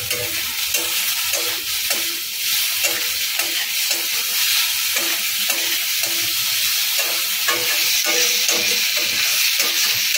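Spiny gourd (kakrol) fries loudly in a pan, a dense continuous sizzle overlaid with regular rhythmic scraping strokes of stirring, no talk.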